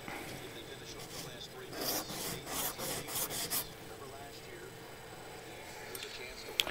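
Plastic model kit parts for a MiniArt ruined buildings diorama are ground down by hand in a rapid burst of close rasping, filing strokes, then quieter scraping follows.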